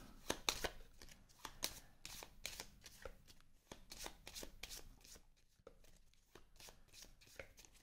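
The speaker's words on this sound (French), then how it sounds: "Je mélange mon deck de base." A base deck of cards for the deck-building game Shards of Infinity is shuffled by hand in quick, rhythmic riffling bursts, quiet and close, with short pauses between them.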